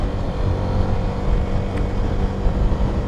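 A CFMOTO 300SS sport motorcycle engine revs high in Eco mode while riding in traffic, a steady loud drone with heavy low rumble and wind buffeting throughout.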